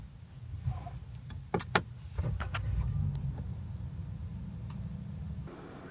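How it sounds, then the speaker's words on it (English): A Genesis GV80 Coupe starts up after a few sharp clicks, and a low engine rumble settles into a quiet, steady idle that continues to the end. "Let's start the engine."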